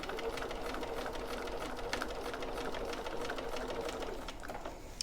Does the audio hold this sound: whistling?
no